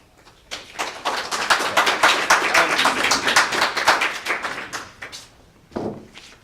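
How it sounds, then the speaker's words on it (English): Audience at a student government candidate forum breaking into a burst of clapping that lasts several seconds, close and fairly loud, followed by a short second flurry. "Applause is more than welcome."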